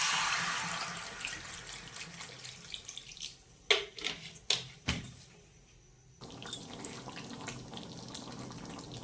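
Water pours steadily into a pan of spiced potato curry for a few seconds, followed by several sharp utensil clinks and a quieter stretch of faint bubbling.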